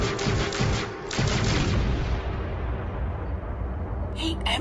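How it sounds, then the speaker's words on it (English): A pulse rifle from the TV show Farscape firing repeatedly in a loud, dense burst of overlapping energy shots and booms that then fades into a rumbling tail, with a brief talk-like sound near the end. "He emptied that pulse rifle."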